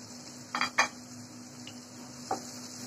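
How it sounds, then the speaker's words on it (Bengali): A spoon scrapes and clinks through spices frying with hilsa fish in a pan, with a few sharp taps near the start and one more later over a quiet, steady low sizzle. "মশলাটা এখন ভালো করে কষিয়ে নিচ্ছি"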